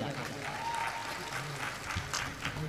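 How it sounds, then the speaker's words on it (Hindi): An audience at a mushaira poetry gathering in Nizamabad, Telangana claps steadily, a short burst of sustained applause heard from within the crowd. "आप एक मरतबा इन साहबान के लिए पुरजोर तालियां बजाते हैं"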